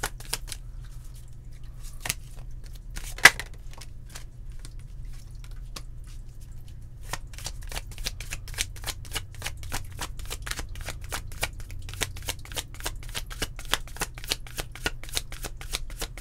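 Tarot cards being shuffled and drawn for a monthly reading, sparse soft card snaps at first, then a long steady run of rapid riffling clicks, close and clear, with no talking.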